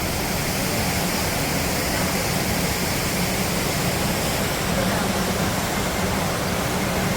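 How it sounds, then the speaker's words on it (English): A large indoor waterfall in a building atrium gives off a constant, full rushing roar that stays even and unbroken throughout. "Big waterfall"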